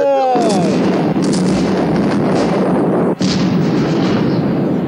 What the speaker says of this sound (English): God, there were really big explosions.